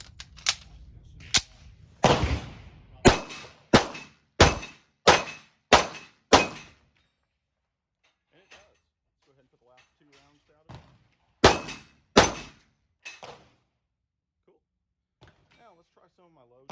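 A pistol fires Russian Barnaul 115-grain full metal jacket rounds in a quick function test after a new spring is fitted: a rapid string of about ten sharp, loud shots, a pause, then two more close shots, with faint talk in the gaps.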